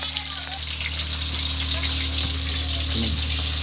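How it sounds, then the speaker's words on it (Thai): Mackerel frying in hot oil, a continuous close sizzle with watery crackle, over a low steady hum in the background. "ทอดปลาทูพร้อมครับ"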